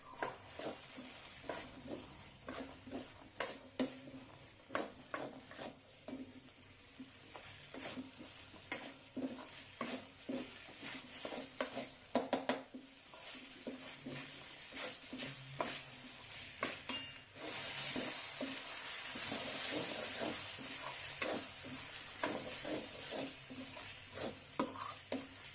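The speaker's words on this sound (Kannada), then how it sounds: "ಚೆನ್ನಾಗಿ ಮಿಕ್ಸ್ ಮಾಡ್ಕೋಬೇಕು." Mutton curry with potatoes, avarekai beans and turmeric being stirred in a pot, steady scraping and clinking of a spoon against the metal over a soft sizzle, with louder frying hiss building toward the end.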